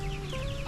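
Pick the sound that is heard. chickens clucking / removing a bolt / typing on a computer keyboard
chickens clucking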